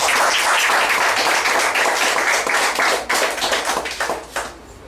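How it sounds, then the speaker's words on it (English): Audience applause at a 2013 CSEC graduation ceremony, a dense burst of clapping that holds steady and then thins out toward the end. "A round of applause."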